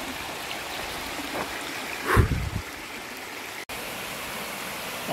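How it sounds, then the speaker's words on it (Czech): A small creek called No Name Creek flows steadily along a trail in the Dunsmuir area, a continuous close rushing wash of water with a brief louder splash or bump in the middle. "A tenhle potok se jmenuje No Name Creek."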